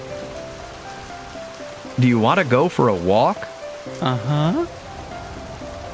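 Cartoon rain falling as a steady, soft patter throughout, while animated voices talk briefly over it in the middle.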